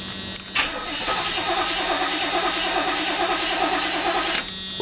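A turbocharged GMC truck's 305 engine cranks briefly, then catches and runs at a loud, steady idle close by before cutting off near the end, with no talking.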